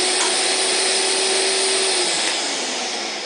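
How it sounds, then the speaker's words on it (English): A Festool CT Midi dust extractor switches on automatically and runs with a loud, steady broadband roar and a high whine, close by and alone, tapering slightly at the end. "Turning the light on activates the vacuum."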